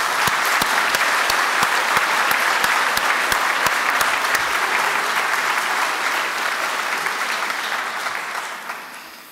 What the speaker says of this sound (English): give yourselves a big round of applause for the work that you do